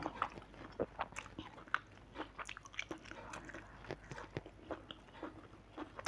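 Close, moist chewing and biting on sticky rice with fried egg, a run of irregular crunchy and squishy mouth sounds with short pauses between bites.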